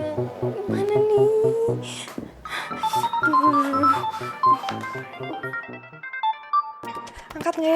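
A mobile phone rings with a melodic ringtone, bright repeating tones playing on and off with short gaps, close and fairly clear.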